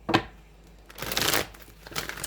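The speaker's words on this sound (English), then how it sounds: "Get a few more shuffles on this." Tarot cards are shuffled by hand in three quick riffling bursts, a sharp snap followed by longer papery flutters, close and clear with no talking.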